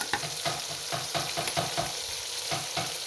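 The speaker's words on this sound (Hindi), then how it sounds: "अब हम डाल देंगे 2 बड़े साइज़ के टमाटर और साथ में डाल देंगे बाकी मसाले।" Tomatoes stirred into frying onions in a pan make a close, steady sizzle broken by regular scraping strokes of a spoon, with no voices.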